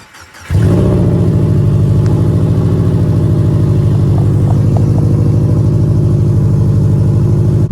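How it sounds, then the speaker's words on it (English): A car engine cold starts, cranking and catching, then settles into a loud, steady rumbling idle close by, with a faint high-pitched whine above it. "Let's get a cold start."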